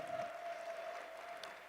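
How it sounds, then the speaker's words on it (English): A brief round of audience applause at a blockchain hackathon event, steady clapping from a crowd with a sustained tone running underneath, heard at moderate distance. "can I have a round of applause for anyone that knows John and what he does for you?"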